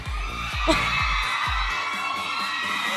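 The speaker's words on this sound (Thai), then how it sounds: "ขอเสียงปรบมือกับคุณชาลอตหน่อยค่ะ" A crowd cheers and whoops loudly for Charlotte at a beauty pageant event, a dense continuous roar of voices with shouts rising over a thumping low pulse of background music.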